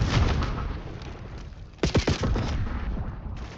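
A frag grenade explodes in a Call of Duty match, a short cluster of loud, sharp bursts that cut through ongoing game noise and gunfire-like rumble.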